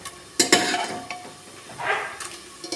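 Spice masala for an aloo baingan dish sizzles as it fries in a pan, with a few sharp scrapes and clinks of a spoon stirring it close by. Nobody talks.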